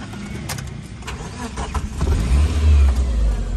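A car engine starts up and settles into a rumbling idle that swells louder toward the end, close by, with faint background clatter and no talk.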